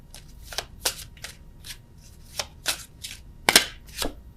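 Oracle cards shuffled for a tarot reading: a run of short, crisp riffling and slapping bursts, close and irregular, with no talk.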